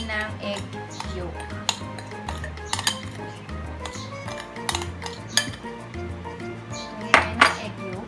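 Cookie batter for microwave curly tops is mixed in a bowl with a utensil, giving steady scraping and clinking against the dish, with a few sharper clinks near the end and music underneath.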